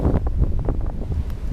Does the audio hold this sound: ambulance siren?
no